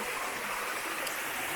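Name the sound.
river flowing over stones in a Kenyan village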